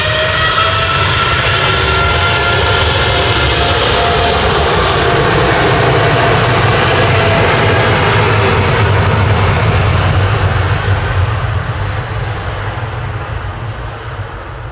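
Qatar Airways jet departing Manchester Airport for Doha, a loud, sustained engine roar holding steady for most of the clip before easing slightly at the end, with no talk.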